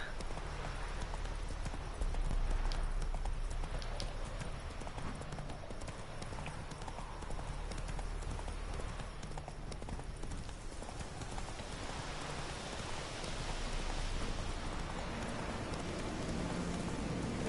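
Horse hooves clip-clop at a steady riding pace in The Witcher 3: Blood and Wine, the rhythmic clatter continuing for the whole stretch under a soft, rain-like wash and background music, with a voice talking faintly now and then.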